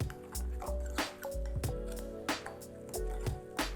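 A fork works through mashed vegan tuna mixed with apple cider vinegar and vegan mayonnaise in a bowl, giving repeated wet squishes and soft clicks in an irregular rhythm, close and quiet, with a low hum underneath.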